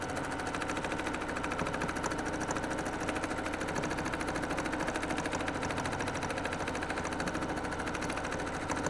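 Sewing machine stitching free-motion quilting curls, a steady rapid needle chatter and motor hum running continuously at close range with no talking.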